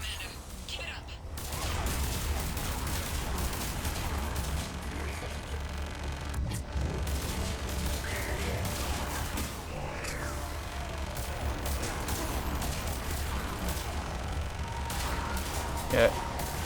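Continuous gunfire and explosions fill a Mass Effect 3 battle, a dense, steady barrage of shots and blasts rolling on for the whole stretch, with a sharper crack near the end and speech mixed underneath.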